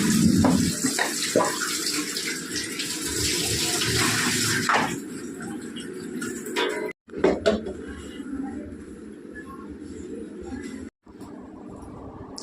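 Tap water runs loudly over containers being washed for about five seconds, then eases to a quieter, intermittent splashing, with birds chirping in the background.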